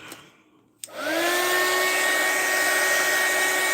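A hair dryer switches on after a brief quiet moment and keeps blowing loudly, a steady rushing roar with a high motor whine, close by.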